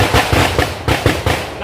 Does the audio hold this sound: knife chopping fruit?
no